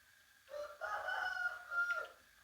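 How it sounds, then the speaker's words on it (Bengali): One rooster crows in a long, rising and falling call, heard clearly against a quiet background. "ওই যেখানে আরেকটা চিল্লাচ্ছে দেখছেন এগুলো ওদের অভ্যাস"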